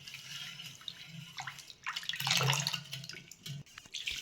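Deity idols being rinsed with water after a panchamrit offering during morning puja, with soft trickling, splashing and dripping close by, swelling briefly in the middle, over a faint low hum.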